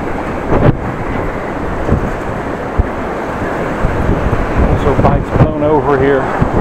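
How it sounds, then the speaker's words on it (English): Strong gusting wind buffets the microphone during a bike ride through Groningen streets, a loud continuous roar that swells and drops, with a voice speaking briefly near the end. "Keep on trying to walk into the wind."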